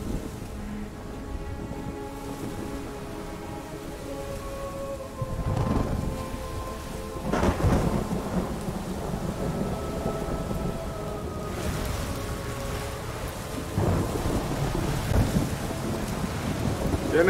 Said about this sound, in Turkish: Fırtınalar.